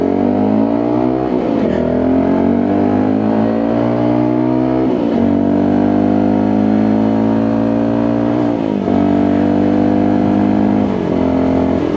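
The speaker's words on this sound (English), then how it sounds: "God, what an exhaust tone, and that is with a baffle in." A WK Scrambler 125 adventure-style motorcycle exhaust with its baffle fitted drones loud and close, its deep tone rising and dipping through several rev changes without a break.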